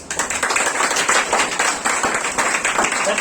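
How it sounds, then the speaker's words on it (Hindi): Students in a classroom break into scattered clapping, a burst of uneven hand claps lasting a few seconds, fairly loud and close. "कभी कभी ताली बजा दिया करो भाई"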